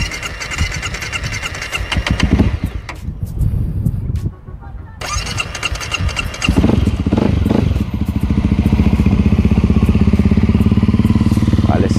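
After sitting in storage all winter, a motorcycle cranks over, sputters and then catches, settling into a loud, steady idle close by with a voice over the start.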